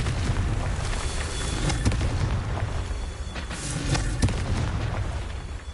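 The Confringo blasting spell explodes in Hogwarts Legacy, a loud continuous roar of booming blasts with sharper bursts layered on top, running for several seconds without any speech.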